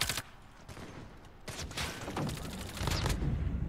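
Rapid bursts of gunfire from an online shooter video game crackle in repeated volleys, fairly loud and dense throughout, with no speech over them.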